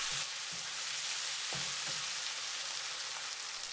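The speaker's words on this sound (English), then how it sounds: "Add the anchovy pieces. Stir for 1 minute." Anchovy pieces stir-fried in a pan: a quiet, steady sizzle with a few soft scrapes from stirring, close but low in level.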